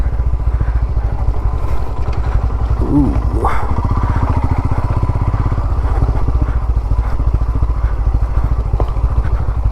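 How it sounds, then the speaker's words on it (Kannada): A motorcycle engine runs loudly and steadily nearby on a coffee estate with a rapid chugging putter, a few sharp backfire pops cutting through, while people talk over it. "back fire ಹೊಡಿತವನೆ"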